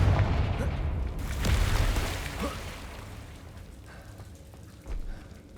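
Confringo fire spell in Hogwarts Legacy, heard as a loud low blast at the start, then crackling and rumbling as it trails off, with a second smaller burst near the end over game ambience.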